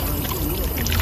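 Water pours steadily from a public drinking fountain on a street in Turin, a continuous close splashing flow with no clear break.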